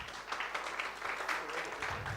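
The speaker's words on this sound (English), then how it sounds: "Please clap for him again." An audience at an international leadership and economic roundtable claps, a soft, even spread of many hands applauding at a distance, with some voices underneath.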